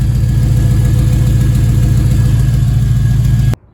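A Chevrolet Avalanche truck engine runs loud and steady at idle after an exhaust repair, with a constant low rumble that cuts off abruptly near the end.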